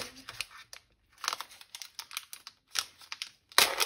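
Crinkly plastic packaging being opened on scrapbooking supplies, heard as close, irregular bursts of crackling and rustling separated by short quiet gaps.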